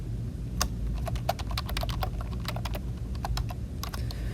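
Keys clack on a computer keyboard in quick irregular bursts of sharp taps, close and fairly quiet over a low steady background hum.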